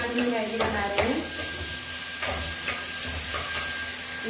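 Onions and chilies fry and sizzle in a pan for Maggi noodles, with a steady hiss and a few stirring scrapes close by, no speech.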